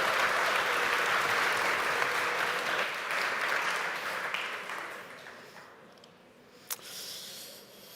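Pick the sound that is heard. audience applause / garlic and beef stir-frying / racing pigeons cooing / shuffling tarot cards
audience applause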